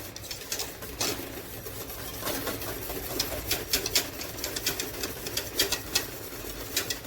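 A whisk stirs bar soap pieces melting in a pot, making quick irregular clinks and scrapes against the metal, close but soft, in a rapid uneven rhythm.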